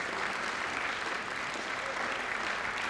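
A crowd applauds a winning 9-ball shot in the final of the 2014 World Pool Masters, with dense, sustained clapping that holds at an even level throughout.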